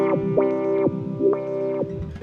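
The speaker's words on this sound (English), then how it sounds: "that's going into the filter so I can control the cutoff frequency" Synth tone through a Eurorack filter whose cutoff is swept by a Wavefront ring controller, giving a sustained buzzy note with repeated rising and falling filter sweeps, alone and upfront.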